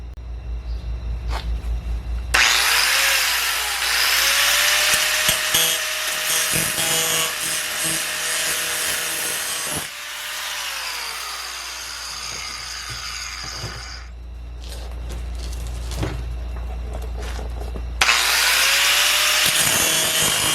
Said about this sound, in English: now I go cut out my tiny patch